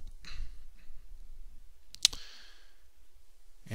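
A single sharp computer mouse click on a Save button, short and crisp against a quiet room with faint rustling around it.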